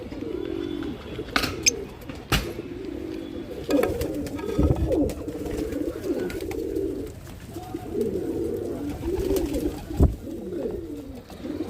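Breeding pigeons coo in repeated low, throaty rolling calls close by, overlapping in a steady rhythm, with occasional sharp clicks and wing flutters among them.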